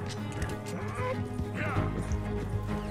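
A horse gallops in Red Dead Redemption 2, with a steady run of hoofbeats and an occasional whinny, set under game sound and some talk.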